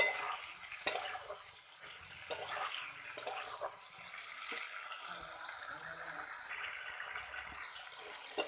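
Tilapia fish curry with cauliflower and potato is sautéed in a pan, a soft sizzle punctuated by sharp clinks and scrapes of a spoon stirring at irregular intervals, nearby and without speech.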